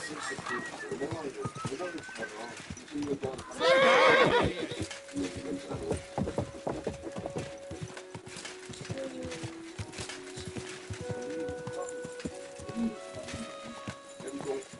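A horse whinnies in the medieval role-playing game Kingdom Come: Deliverance II, one loud, bright neigh standing out midway, set against hoof clip-clops, birdsong and talk.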